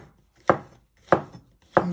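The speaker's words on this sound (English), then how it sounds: "So you first chop it in half" A kitchen knife chops through food on a cutting board while preparing a creamy mustard chicken, three sharp, close thuds spaced evenly about two-thirds of a second apart with quiet pauses between.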